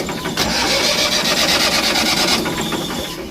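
A tractor engine cranks and catches, then clatters in a fast rhythmic idle for a couple of seconds before settling, loud and near, with no speech over it.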